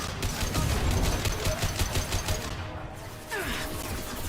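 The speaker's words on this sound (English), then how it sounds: "Taking heavy fire." Heavy, rapid automatic gunfire in the Mass Effect sci-fi shooter, a loud, continuous stream of shots that briefly drops away before resuming at a slightly lower level.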